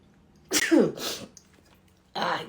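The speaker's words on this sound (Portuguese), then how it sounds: "Ai, gente, vou ter que espirrar de novo." A woman sneezes once, loud and close, mid-talk, with a shorter breathy burst following a second later.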